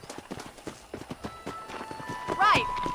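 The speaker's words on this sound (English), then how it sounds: "You're not gonna get much herding done without a horse." A horse's hooves clip-clop in a quick, uneven rhythm in the Western video game Red Dead Redemption, close and distinct, ending in a brief whinny-like tonal cry near the end.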